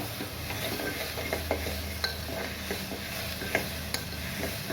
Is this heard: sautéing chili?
yes